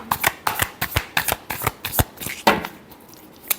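Tarot cards being shuffled up close, a quick series of crisp riffling bursts with short pauses between them, ending in one last shuffle.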